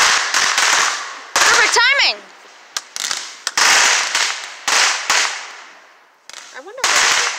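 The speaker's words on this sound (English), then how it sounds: "Fireworks from Pennsylvania are really good, dang." Fourth of July fireworks and firecrackers from Pennsylvania burst in a rapid series of sharp, loud cracks and pops with crackling tails, some whistling as they rise, while people talk and exclaim between the bursts.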